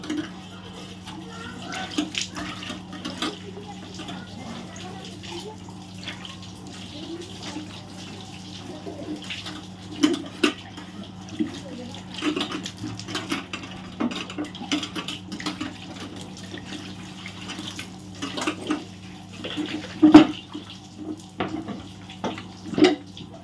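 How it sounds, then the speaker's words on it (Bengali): Water runs and splashes while a gas stove is rinsed after scrubbing, a low steady flow with irregular splashes and clatters that grow busier toward the end, all fairly faint and close. "গ্যাসটাকে ভালো করে ঘষে ঘষে আমি মুছে তারপরে জল দিয়ে ধুয়ে নেব"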